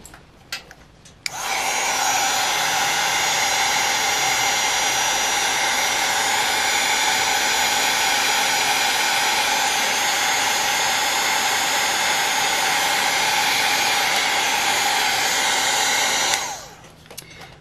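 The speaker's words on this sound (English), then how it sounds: "I'm gonna dry it with the heat tool. Just gonna be loud for a few seconds." A heat tool blows hot air to dry a paper craft project, a loud, steady, close-up hiss and whir that runs for about fifteen seconds, then switches off.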